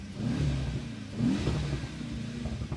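Mercedes-AMG E63 S engine revving hard in bursts, a loud close rumbling growl that swells and holds for nearly three seconds without any talk.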